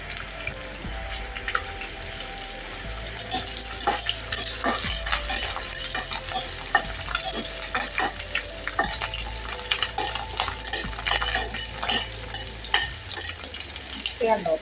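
Fresh curry leaves sizzle hard in hot oil in a pan for okra thoran, a loud continuous crackling fry with spatters throughout, a voice talking faintly underneath.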